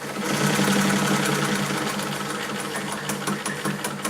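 A Singer 99K sewing machine runs with a fast mechanical clatter that gradually slows toward a crawl, its needle strokes becoming more distinct near the end.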